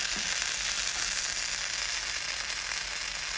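A blueberry pancake sizzles in a hot pan, giving a dense, even crackling hiss that runs steadily throughout with no voices.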